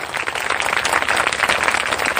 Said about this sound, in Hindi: परंतु उससे पहले हम तालियों के साथ में जोरदार स्वागत करें